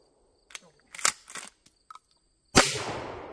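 A pump-action shotgun fires once with a sharp, loud blast and a decaying tail, preceded by several soft clicks and handling knocks.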